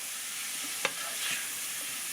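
Thick sauce with added flour cooking in a pan, a dense steady frying hiss with one brief tap of a utensil, close and unbroken by speech.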